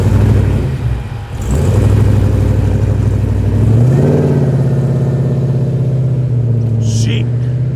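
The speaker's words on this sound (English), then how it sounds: "caught my attention with that little rev" Holden VK car engine at a car show, a loud steady rumbling idle that climbs in pitch as it revs, close, with a voice talking over it.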